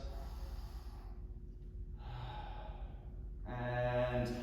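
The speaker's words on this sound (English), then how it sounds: "deep breaths" Slow, deep breaths during a stretching session: a long exhale, a pause, a second breath, then a fuller inhale near the end, close and clear over a low steady hum.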